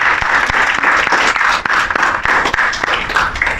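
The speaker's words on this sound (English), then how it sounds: "Wow, let's give a round of applause just for that." An audience at a speakers' club interview bursts into applause, a loud, dense burst of many hands clapping that carries on steadily throughout and is fairly close.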